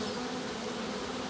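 A swarm of honey bees issuing from a hive in early July, a dense, continuous buzzing hum that fills the air evenly and close, with no voices.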